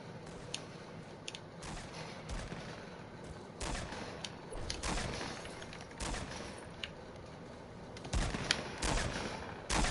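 Repeated hand cannon gunfire from a video game, heavy shots bursting at irregular intervals over a dense, noisy game soundscape, with no talk.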